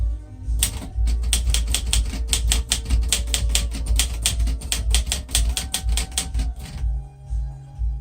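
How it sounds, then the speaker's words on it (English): A 1974 Underwood 315 cursive typewriter clatters through a fast, steady run of loud, close keystrokes, the crisp strikes packed tightly together before stopping near the end. "It's just a very nice typewriter."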